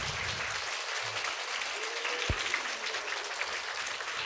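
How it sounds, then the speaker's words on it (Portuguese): A warm round of applause from a school audience at a children's storytelling event, dense steady clapping that holds for the whole stretch, fairly distant and even with no voices over it. "eu quero pedir uma salva de palmas bem calorosa"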